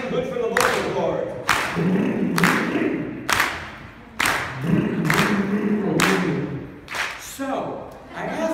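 A crowd at an NCSM 2016 Ignite event claps together in a regular beat for a song, sharp group claps about every second under a performer's bubbling vocal-cord exercise.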